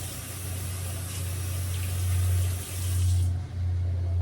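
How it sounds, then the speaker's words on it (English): Steady running water from a tap over a low hum, with brief dips as hands move under the stream, then the hiss fades near the end. "I'm going to wash my hands real quick."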